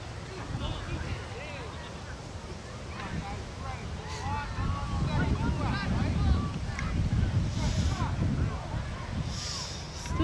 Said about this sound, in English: Still some gusts of wind starting to pick up a little bit as we come later into the game.